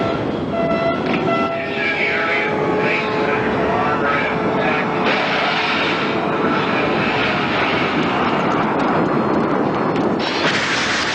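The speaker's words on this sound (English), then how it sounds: "Hundreds of fighter jets and bombers take part in an all-out effort to destroy NATO's air force" Massed Soviet fighter jets and bombers in an all-out airstrike on NATO airfields: a continuous loud roar and whine of jet engines passing overhead, steady and dense throughout.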